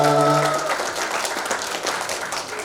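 Audience applause at a handtool product launch event in Indonesia follows the host's call to clap. Music ends abruptly, then moderate, even clapping from a room full of people carries on alone.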